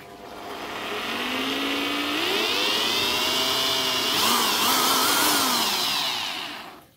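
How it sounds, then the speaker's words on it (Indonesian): Electric drill boring into a CNC-molded heat-resistant handle, a steady loud motor whine with pitch glides as the bit bites, rising harsher near the end before winding down, no talking. "langsung kita bor"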